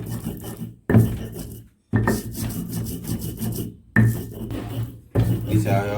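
Spices for beef rendang are ground fine, a steady coarse rubbing and grinding in bursts separated by short silent gaps, close up, with a voice faintly under it.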